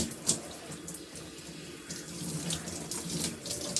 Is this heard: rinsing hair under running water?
yes